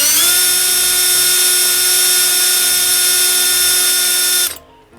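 A steady high-pitched whine of a drill grinding into hardened steel from a spoon, continuous and loud, cutting off abruptly near the end.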